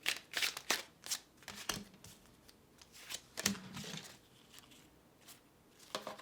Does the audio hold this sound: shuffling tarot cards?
yes